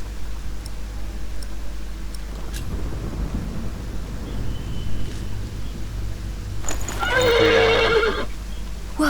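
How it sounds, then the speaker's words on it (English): A horse whinnies loudly near the end, preceded by scattered hoof clops and shuffling over a steady low background hum. "The horse nearly woke the guard."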